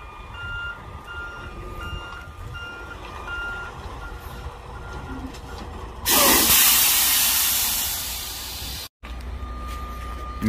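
A 25-metre long-combination truck backs up to couple two trailers, its reversing alarm beeping steadily under engine rumble until a loud burst of air-brake hiss cuts in, stops briefly, then the beeping resumes.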